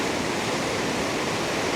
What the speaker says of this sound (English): When the water's flowing like this, it gets quite tricky.